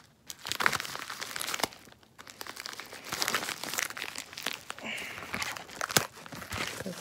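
Cardboard and plastic Amazon package packaging being torn and crinkled open by hand in short, irregular bursts of ripping and crunching, close by, with brief quiet gaps between efforts.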